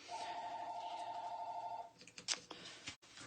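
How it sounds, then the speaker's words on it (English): A telephone rings indoors in a rapid, warbling electronic trill for a couple of seconds, fairly faint, then gives way to soft handling noises. "I'm sorry about the phone ringing."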